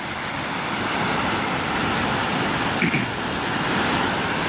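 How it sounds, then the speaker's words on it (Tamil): Rainwater rushes and overflows from a village pond in a steady, loud, broadband roar, close by and unbroken, with no voices over it. "இந்த குளம் வந்து இப்பயே வான் பாயுது பாருங்க."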